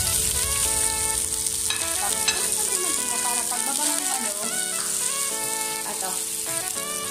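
Chicken tinola ingredients drop into a hot pot and sizzle, a loud steady frying hiss with stirring clatter, while someone talks over it in the foreground.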